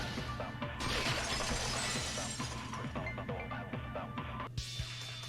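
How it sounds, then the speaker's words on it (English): Glass vase shattering in the Danganronpa 2 video game, a dense, loud crash of breaking and clinking shards that runs for several seconds over a steady low hum, ending in a brief sharp burst. "If it wasn't the window, then what broke to make that sound? A vase."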